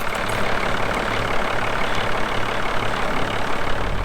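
A Toyota Land Cruiser 60 Series engine idles steadily and loudly, heard from inside the cab, a constant low rumble with a faint rhythmic pulse.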